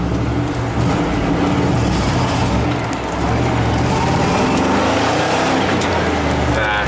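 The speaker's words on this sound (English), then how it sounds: "Question is, will it do a burnout?" A Chevy 5.0 V8 with a crank no-start and low-power fault roars loudly and steadily during a burnout attempt, a dense sustained engine drone close by with no clear talk.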